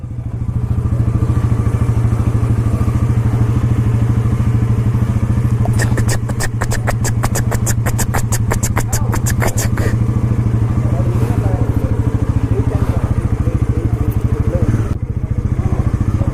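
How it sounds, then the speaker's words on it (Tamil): A 400cc motorcycle engine idles loud and close with a deep, steady throb, then a brief run of rapid clattering pulses as the throttle is blipped before it settles back to idle; people talk over it. "பா சும்மா த்ராட்டில் பண்ணா அப்படியே இழுத்துட்டு போகுதுங்க வண்டி."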